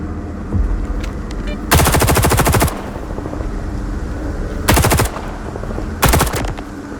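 Automatic gunfire in the shooter game Stalker 2: Heart of Chernobyl, three loud bursts, one long and two short, over a low ambient rumble.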